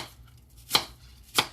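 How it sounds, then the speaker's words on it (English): A knife chops food on a small cutting board in a home kitchen, giving two sharp, separate knocks about half a second apart against a quiet background. "Just chop. So I'm a chopping."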